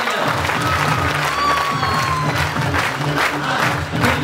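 A live seminar audience applauds and cheers at a motivational talk, a dense steady wash of clapping and crowd voices that holds loud and continuous throughout.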